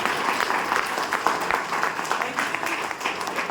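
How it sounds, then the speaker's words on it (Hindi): Audience clapping at a Safe Shop direct-selling training session in Chaibasa, a steady, fairly loud burst of many hands throughout with no talk on top. "एक जोरदार ताली तो बजानी चाहिए आपको"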